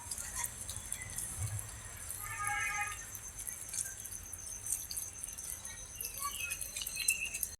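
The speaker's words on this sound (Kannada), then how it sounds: "ಎಷ್ಟು ಚೆನ್ನಾಗಿ ಬೀಳ್ತಾ ಇದೆ ನೀರು" Water pours steadily into a flooded paddy field, giving a soft, continuous rushing wash with faint chirps drifting over it, fairly quiet throughout.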